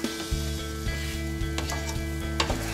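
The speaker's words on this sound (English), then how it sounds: "as we stir this up, and we're gonna saute it for a couple of minutes here" Breadcrumb stuffing mixture for a Cajun dinner sautéing in a pan, a close steady sizzle with rhythmic stirring scrapes of a spoon against the pan.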